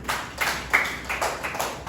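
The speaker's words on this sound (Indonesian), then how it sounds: "Berikan tepuk tangan untuk teman kalian di depan." Classmates in a classroom give a round of applause, heard as a faint, fairly even run of about seven claps with no talking.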